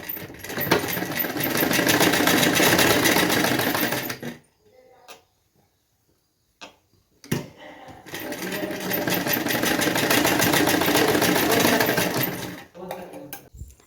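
A sewing machine stitches a blouse sleeve in two long, loud runs of fast needle rattle, separated by a quiet pause with brief clicks and fabric handling.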